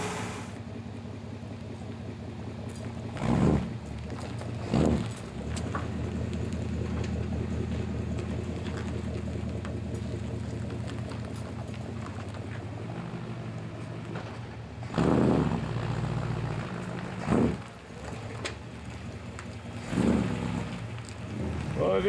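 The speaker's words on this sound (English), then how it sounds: "I'm gonna take it for a little test drive, I guess." A 1963 Chevrolet Impala SS with an ignition coil fault idles and labors on a test drive, a low steady engine drone with a few louder surges and bumps, nearby and without speech.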